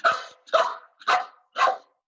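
A trained dog barks on command, four sharp, evenly spaced barks, close and loud with short silences between them.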